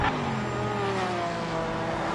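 GT race car engines in a racing video game championship round at Sao Paulo, including a Lamborghini, roar steadily and loudly at high revs with rising and falling pitch, filling the whole stretch without talk.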